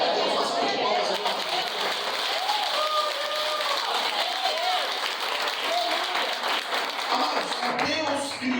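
A church congregation claps together during a lively worship service, a dense, sustained wash of many hands that stays loud and fairly steady throughout, with voices mixed into the din.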